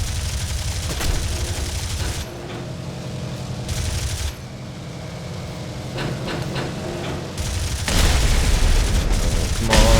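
Bombs dropped from an S.79 Sparviero bomber exploding in War Thunder, deep booming blasts over a steady droning aircraft engine, with the loudest burst rising near the end.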